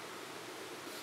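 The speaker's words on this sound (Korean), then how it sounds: "물소리 좋다." Steady rush of flowing water, continuous and broadband, moderately distant and even in level with no distinct splashes, heard alone without voices.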